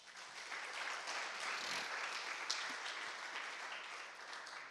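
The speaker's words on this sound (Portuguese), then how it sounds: "Aplauda o Senhor." A church congregation applauds during a Portuguese-language sermon, the clapping a steady, dense wash of many hands held at even loudness throughout, with no speech over it.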